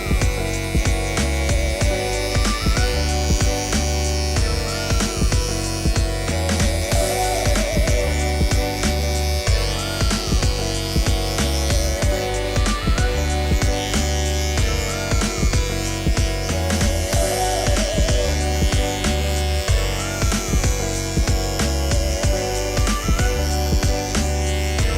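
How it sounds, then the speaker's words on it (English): Continuous electric shaver buzz finishing a low skin fade haircut with a side part, a steady close-up drone holding the same level throughout with no talking. "then following up with the electric shaver"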